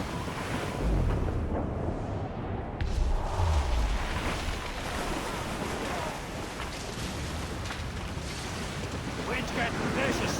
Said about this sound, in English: The wind's getting vicious.